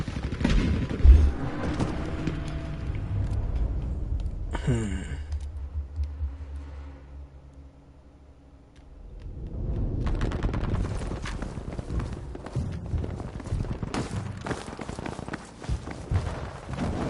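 Heavy gunfire and artillery crackle from a video game battle with tanks, including a Sherman, dense bursts of shots and clicks that thin out midway then resume loud and busy.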